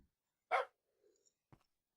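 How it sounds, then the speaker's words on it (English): A dog barking in a Minecraft-style survival video game: one sharp, clear bark followed by a faint whine and a short, softer yelp, against near-total silence. "I now have 2 dogs and a baby puppy."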